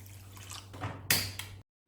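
Water is poured into a pan holding half a cup of sugar for a syrup. It comes as a short, faint splashing trickle with a brief brighter gush near the end, over a quiet background hum, then cuts to silence.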